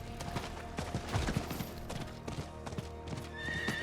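A horse in the video game Diablo IV clip-clops at a steady galloping rhythm throughout, with a whinny rising near the end, loud and close over light game ambience.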